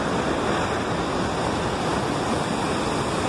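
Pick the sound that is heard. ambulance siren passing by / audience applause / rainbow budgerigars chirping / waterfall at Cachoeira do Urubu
waterfall at Cachoeira do Urubu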